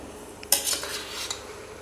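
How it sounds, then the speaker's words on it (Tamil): A hot Kerala aviyal being mixed in a pot with two spoons of coconut oil, a few scraping and clinking stirs of a spoon against the pot, soft and close, over a faint background. "இது நல்லா அவியல் சூடாக இருக்கும்போதே நம்ம சேர்த்து நல்லா மிக்ஸ் பண்ணிக்கணும்"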